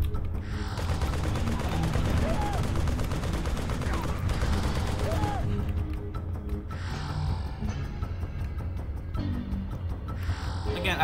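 A minigun fires in the Turok video game, in a modded level crowded with enemies: dense, continuous bursts of rapid gunfire run almost the whole time, loud and close, with a few brief lulls and speech mixed underneath.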